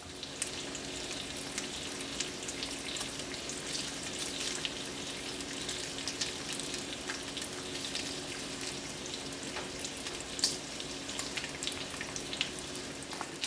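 Bacon sizzles steadily in a skillet, with a constant dense crackle and occasional sharper pops throughout. It stays close and even in level, with no talking.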